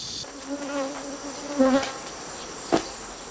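A hornet buzzes close by at a beekeeping apiary in a few short, droning passes, the whine rising and falling, followed by a sharp tap.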